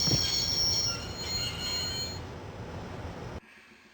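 A train in the Broken Sword video game rolls on rails with loud, sustained metallic wheel squeal over a rumbling rumble, fading slightly before cutting off abruptly near the end.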